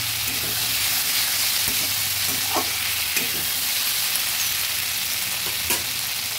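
Potatoes and green peas fry in a pan for ghugni, giving a steady, close sizzle throughout with a few soft stirring knocks and no talking.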